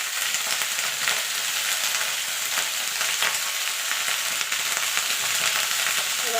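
Cauliflower, potato and spring onion seasoned with salt and turmeric fry in a pan as they are stirred, giving a steady, close, even hiss with no voices.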